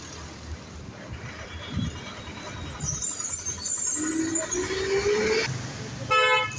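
Road traffic in a busy street passes close by, with a car horn sounding partway through and a quick series of honks near the end over the engine rumble.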